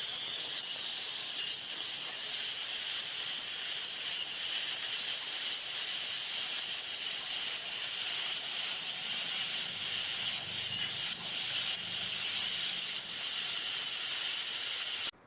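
Tomato paste sautéing in a hot pan, a loud steady sizzle and hiss that continues without a break for about fifteen seconds, alone with no talking.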